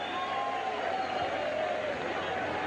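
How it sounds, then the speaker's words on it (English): A boxing arena crowd roars and applauds both fighters after the final bell of the Jose Luis Castillo versus Stevie Johnston bout, a dense, even wash of cheering with no pauses. "Crowd salutes both fighters."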